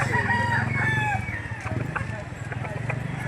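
A young rooster (stag) crows loudly and close at a livestock auction market in Lipa City, Batangas, with a rising and falling call over a busy background of market noise and voices.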